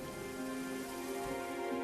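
Steady rain falls on open ground, a continuous even patter of drops that stays level and close throughout with no voices.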